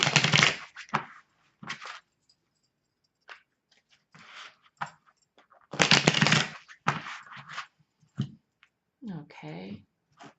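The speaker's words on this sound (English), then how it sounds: "Just a couple more shuffles." A deck of tarot cards shuffled by hand in several brisk riffling bursts close to the microphone, separated by pauses, with a voice speaking briefly near the end.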